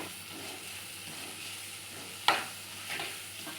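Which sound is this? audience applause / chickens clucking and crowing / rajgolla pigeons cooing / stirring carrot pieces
stirring carrot pieces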